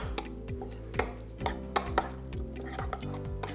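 Salsa verde with lemon and salt being stirred in a bowl, giving soft scattered clinks and taps of utensil on dish over a low steady background hum, no one speaking.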